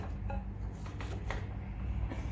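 Jackfruit seeds, green chilies, mango and drumstick pieces are dropped into a pot for a dal curry, producing a few light clinks and knocks against the metal over a steady background hum.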